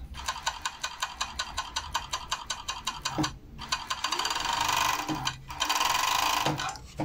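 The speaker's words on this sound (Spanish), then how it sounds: "De una vez voy a pasar costura en la pieza superior." A sewing machine stitches a seam on a garment piece, first in a steady series of rhythmic mechanical thumps, then in faster continuous whirring runs broken by brief stops, close and loud with no talking.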